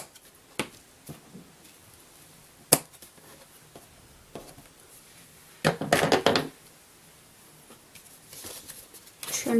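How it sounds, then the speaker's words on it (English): Short crisp snips and rustles of scissors trimming ribbon tails on a handmade card, a few isolated cuts followed by a denser burst of cutting and handling sounds, close up with no talking. "I'm going to take my scissors"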